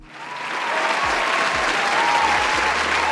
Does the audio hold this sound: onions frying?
no